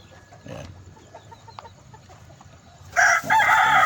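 Backyard chickens cluck and stir at low level, then a rooster bursts into a loud, close crowing call near the end.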